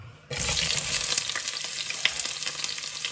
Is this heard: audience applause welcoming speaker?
no